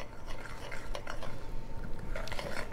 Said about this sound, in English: go ahead and mix that butter and brown sugar